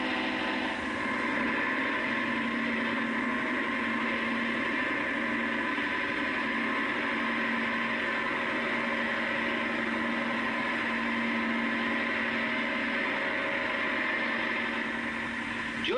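A Leyland 154 tractor engine runs steadily at a constant, even pitch with a rich harmonic drone that holds unchanged throughout, close and loud with no voices, as the tractor works marking out fields.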